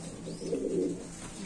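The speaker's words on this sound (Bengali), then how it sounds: "এখানে আছে দুই জোড়া সাদা রেইন কবুতর বিগ সাইজের" Pigeons, including big white ones, coo softly at a pigeon market, a low brief burbling call heard faint and close with no talk.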